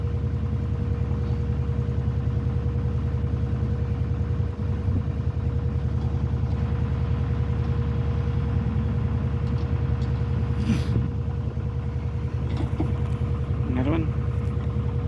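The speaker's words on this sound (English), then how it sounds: "the engine of the boat is a Lister SR2. I'm not sure what horsepower it is, but it sounds more like a dump truck" A Lister SR2 engine powering a boat chugs steadily throughout, a heavy, low, continuous diesel drone with a rhythmic knock, close and loud, with faint brief sounds above it.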